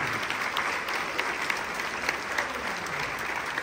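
Steady, continuous applause from a congregation at a Catholic healing and deliverance service, an even wash of many hands clapping at moderate distance.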